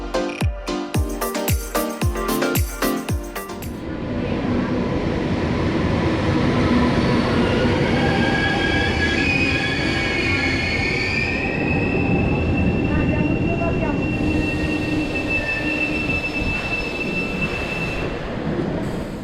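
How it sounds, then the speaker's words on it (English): A Trenitalia train pulls into Savona station, its wheels clattering in a rapid rhythmic run over rail joints before giving way to a long, loud metallic squeal of wheels and brakes as it slows, with no voices. "let's take a look at our train arriving at the station of Savona"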